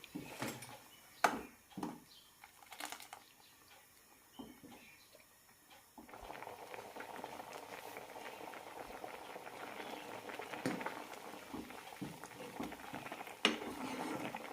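Raw mango curry bubbles in a pot, a soft close boil with faint popping and patter, interrupted by a few clinks before settling into a continuous simmer.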